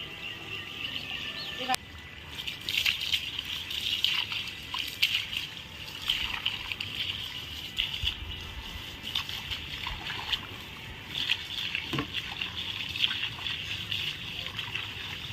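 Water is sprayed from a hose onto the walls of a newly built house, a steady hissing spray that swells and dips as the stream moves, with people talking over it now and then.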